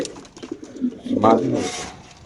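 A caged racer pigeon at a market gives a short, low coo midway, fairly close, amid soft rustling and a nearby voice.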